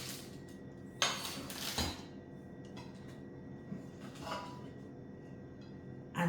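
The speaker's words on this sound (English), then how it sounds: "plates, metal plates" Metal cutlery and metal plates being handled and taken from a compact box, giving a few soft clinks and scrapes at close range, with quiet pauses between them and no talking.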